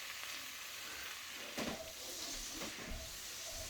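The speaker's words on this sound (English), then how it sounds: "I got the potatoes frying up pretty nice" Soft, steady sizzling of potatoes frying in butter in a pan, quiet and close, with a few faint clinks.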